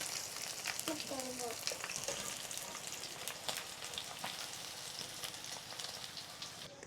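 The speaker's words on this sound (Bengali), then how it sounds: "আমি শিং মাছগুলো ভেজে নিয়েছি, এপিট ওপিট করে ভেজে নিয়েছি।" Stinging catfish (shing fish) fry in hot oil, a dense crackling sizzle with scattered pops throughout, fairly quiet and steady, with faint clinks of a utensil early on.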